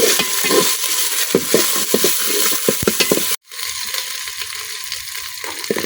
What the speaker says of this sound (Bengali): পেঁয়াজের সাথে আদা রসুন বাটা কিছুক্ষণ ভাজা দিলাম।